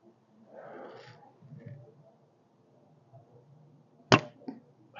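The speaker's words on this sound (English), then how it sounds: "Let's just shoot that 8 GPP arrow at the most further away target" An 8 GPP arrow loosed from a Raptor RX bow at a distant deer target: a sharp, loud release snap near the end, followed by a short thud-like rattle, after quiet rustling and low background murmur.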